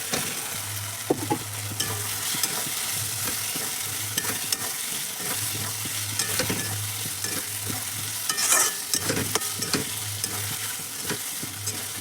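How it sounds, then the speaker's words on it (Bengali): Spices sizzle and fry in a pan with eggplant and potato, a continuous crackling hiss broken by repeated scraping stirs of a spoon against the pan, close and steady with no talking. "এখানে মশলাটা এই যে ভাজা হচ্ছে"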